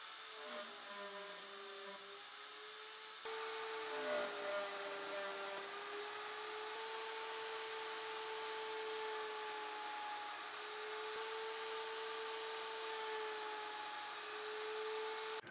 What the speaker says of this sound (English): I'm going to use my horizontal mortiser.